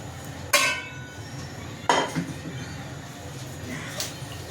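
A lid placed on a pot of beef stew, two sharp metallic clanks a little over a second apart over a low simmering background, followed by a fainter clink.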